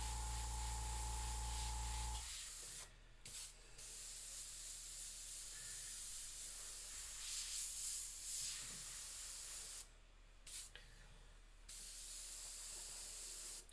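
An airbrush hisses in short spray bursts while paint shades the teeth of a tattoo-style skull, close and fairly quiet, with gaps of room noise between passes and a brief low hum at the start.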